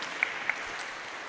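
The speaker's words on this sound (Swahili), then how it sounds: "Tuwapigie makofi tena wakiketi." A congregation at a Kikuyu-language church service applauds, giving a steady, even wash of clapping at moderate volume throughout, with a couple of sharper accents standing out near the start.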